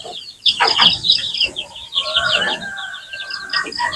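Native geese kept together with chickens honk and cackle close by, overlapping calls from several birds sounding continuously, with clucking mixed in.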